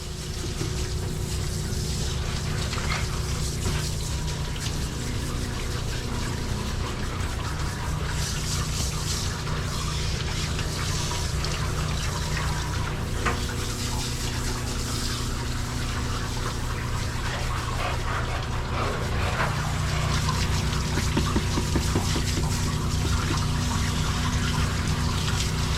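Steady broadband gushing of water running over a dog during a soap rinse, continuous and close for the whole stretch with no talk over it.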